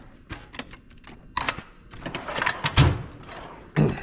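A tool box drawer slides open and shut with clacks and thuds, a few sharp bumps followed by rolling scrapes and a final knock, close and fairly quiet.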